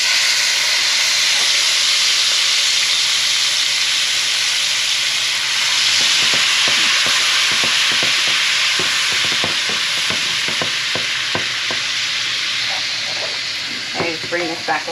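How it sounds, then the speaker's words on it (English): Sofrito poured slowly into hot oil for an alligator curry, hissing and sizzling steadily up close, then stirred with a run of rapid scraping clicks toward the end. "I'm going to slowly add my sofrito to it because it is oil"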